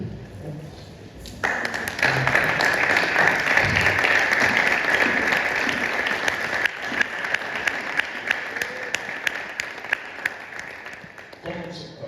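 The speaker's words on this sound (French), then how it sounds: "Nous allons nous lever et acclamer la parole de Dieu." A church congregation breaks into sustained applause that swells and holds for about ten seconds, dense rhythmic clapping filling the room before it tapers off.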